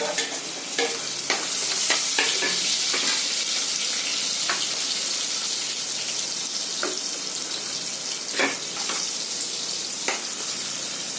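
Onion, garlic-cumin paste, chilies and tomatoes frying in a pan, a loud steady sizzle with repeated sharp scrapes and clinks of stirring, no talking.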